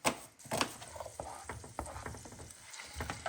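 Soft sizzling and crackling of onion frying in oil in a pan, with occasional stirring scrapes, quiet and close.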